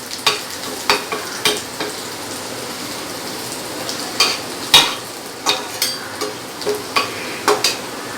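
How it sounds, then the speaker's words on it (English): Garlic sautéing in a little oil in a pan, a steady close sizzle broken by a series of sharp stirring scrapes and taps, with no talk. "Just saute this garlic."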